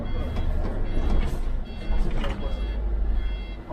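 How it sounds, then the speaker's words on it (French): A Transdev city bus engine judders and lugs while pulling away, a low uneven rumble close by inside the cabin, with someone talking over it. "Tu sens comment il broute là, le bus un peu des fois."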